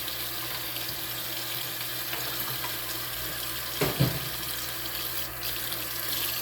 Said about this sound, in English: Give it some water, and then I'm going to add some vinegar to that